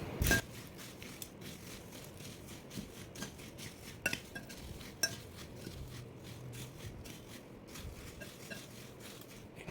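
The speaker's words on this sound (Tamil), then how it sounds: "இப்போ இதை நல்லா மிக்ஸ் பண்ணிடணும்" Masala puffed rice with chillies and curry leaves stirred in a vessel, with faint scraping and occasional light metallic clinks of a spoon against the pot in a quiet room.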